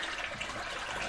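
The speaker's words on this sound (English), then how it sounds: "the water will drain out here." Water drains steadily out of an aquaponics growth bed toward a bell siphon valve, a continuous close trickling and gushing flow that holds an even level throughout with no voices.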